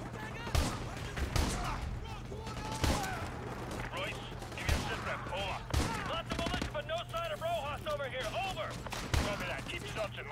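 Shotgun blasts ring out in Call of Duty: Modern Warfare 2 as several sharp booming shots at uneven intervals over a constant hum of game noise, with other gunfire and a voice talking over the action.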